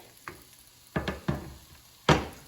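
A few short crackling bursts of oil sizzling in a frying pan on high heat with bell peppers and onions, separated by quiet pauses, close and fairly soft.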